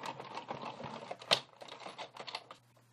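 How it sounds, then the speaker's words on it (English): A Big Shot die-cutting machine cranked by hand with paper for a card project, giving a quiet run of close clicking and ratcheting taps for a few seconds with one sharper click partway through. "Roll that through the Big Shot."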